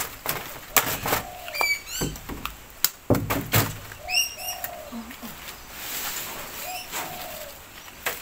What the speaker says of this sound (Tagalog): Ay, naku, mga ibon.